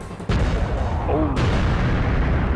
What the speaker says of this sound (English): I always love the explosion sound in this game